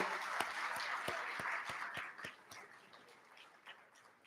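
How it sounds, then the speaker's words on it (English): An audience applauding graduates at a college of engineering end-of-year celebration, scattered clapping with a few distinct sharp claps, moderate and fading toward the end. "let's give our graduates a round of applause, please"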